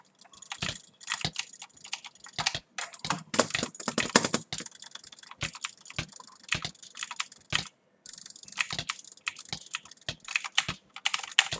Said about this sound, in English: I'm gonna try my best to jitter click.